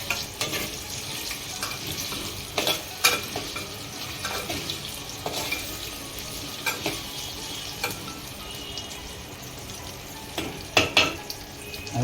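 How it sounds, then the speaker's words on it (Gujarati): Chopped potatoes go into a hot pan of oil and are stirred once, giving a steady sizzle and frying hiss with scattered scrapes and clinks of the spoon, close and continuous, with no talking. "હવે નાખીએ આપણે જે સમારેલા બટેકા હતા ને એ બધા નાખી દેવાના અને એક વખત હલાવી કાઢવાનું"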